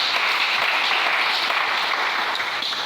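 A church congregation claps and applauds together, a steady dense wash of many hands that stays loud and even from start to finish, with no talk over it.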